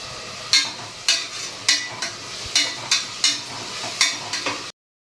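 Ginger garlic paste sautéing in a pan, heard as a regular series of about a dozen scraping stirs, each a short swishing burst, before the sound cuts off abruptly.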